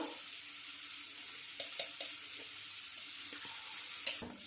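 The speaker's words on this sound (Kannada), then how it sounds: "ಎಲ್ಲ ಚೆನ್ನಾಗಿ ಹುರ್ಕೋಬೇಕು." Spices and homemade mutton sambar powder dry-roasting in a pan, a soft steady sizzle with a few light scraping stirs and a brief clatter near the end.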